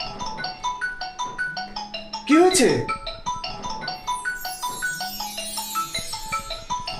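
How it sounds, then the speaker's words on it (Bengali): An incoming phone call rings with a repeating electronic melody that loops steadily at moderate volume. Midway, a voice briefly asks a question over it. "তাড়াতাড়ি ফোন রিসিভ করো, নইলে ফোন কেটে যাবে"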